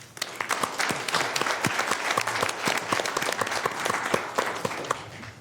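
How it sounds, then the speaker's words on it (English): Applause for a team at a school district meeting: a room full of people clapping steadily and loudly for several seconds, with sharp individual claps standing out within the dense, even wash of sound. "I would like to just say one final clap for everybody."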